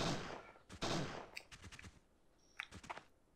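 Rapid bursts of energized gunfire in Parasite Eve 2 crackle in quick succession, fairly faint, with sharp clicky shots scattered over a couple of seconds.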